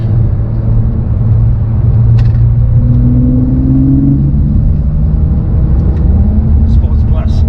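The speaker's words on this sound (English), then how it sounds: "Sports Plus, you can hear without even changing my accelerator position, up goes the revs again" A 2019 Porsche 992 engine in Sports Plus mode hums steadily, then its revs climb and dip while driving, a close, loud rumble beneath someone speaking over it.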